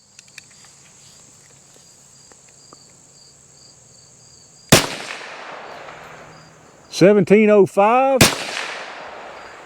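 Rifle shots from .22 Magnum rounds fired over a chronograph outdoors: two sharp, loud cracks several seconds apart, set against insect and bird chirps, with a brief spoken phrase.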